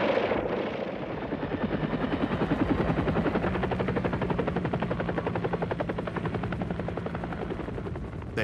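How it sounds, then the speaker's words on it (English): Dense rotor thudding from many American military choppers lifting off together, a steady loud beating wash with engine whine that holds close and constant throughout, carrying troops toward a Vietnam village target. "120 American choppers lift off to deliver 800 additional ARVN ground troops within striking distance of their ultimate target"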